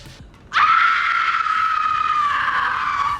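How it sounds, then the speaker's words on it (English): A long, sustained high-pitched scream of the Banshee, a ghostly female wail in the night, starting abruptly after a brief quiet and holding loud and steady for nearly three seconds before trailing off. "you hear a blood-curdling scream"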